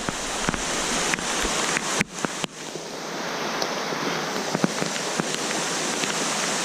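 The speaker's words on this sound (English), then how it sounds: "It's completely pouring down on me right now," Heavy rain pours steadily beside a small Vermont trout stream during a thunderstorm, a dense wash of hiss with scattered sharp drops and brief knocks close by.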